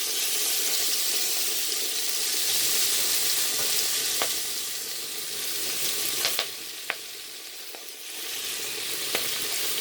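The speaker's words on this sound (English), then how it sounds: "you probably can hear it sizzling" Steady crackling sizzle of cabbage frying in a hot pan on low heat, with a few sharp clicks and taps of a utensil stirring.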